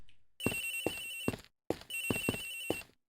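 A cell phone in Ace Attorney Investigations rings with a lullaby ringtone, a gentle melodic tune of soft notes playing in two short bursts separated by a brief pause.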